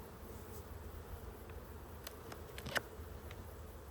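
Honey bees hum faintly around an open hive during an inspection, a low steady drone with a few scattered clicks and taps.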